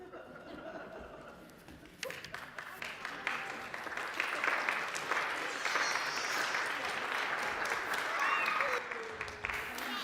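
Audience applause at a community service gathering, a dense sustained clapping that swells and holds for several seconds, with voices mixed in.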